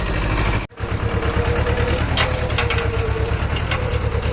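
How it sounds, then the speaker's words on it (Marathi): A farm tractor arrives for sowing, its engine a steady, loud low rumble that holds after a brief cut near the start, with faint knocks on top. "हे बघा पेरणीचा ट्रॅक्टर आलेला आहे"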